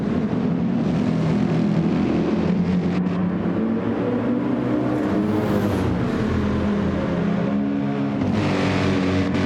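A Dodge Viper GT3 race car in a racing video game roars down a long straight, its engine loud and sustained as it passes.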